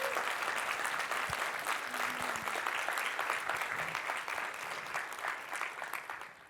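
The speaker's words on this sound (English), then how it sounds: "please give a round of applause to Zainab, who's joining us right there." An audience claps steadily in a talk or presentation setting as a guest is welcomed, a dense, sustained round of applause that holds loud throughout and tapers slightly at the end.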